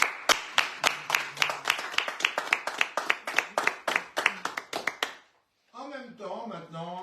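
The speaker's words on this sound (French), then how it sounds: "On peut les applaudir." A small audience gives a brief round of scattered clapping, sharp distinct claps tapering off after about five seconds, followed by someone speaking.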